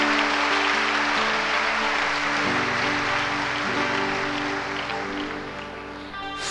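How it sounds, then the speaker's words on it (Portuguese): Congregation applause during a Catholic homily at a Cerco de Jericó prayer gathering: a dense, steady wash of clapping for several seconds over sustained organ-like music tones, slowly fading toward the end. "Pode aplaudir."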